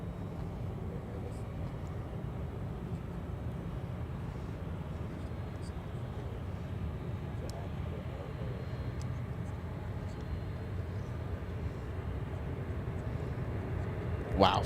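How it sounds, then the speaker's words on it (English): A fully loaded Cathay cargo jet makes its takeoff roll, a steady distant broadband engine roar that holds constant throughout and swells slightly at the end. "Beginning to do its takeoff roll."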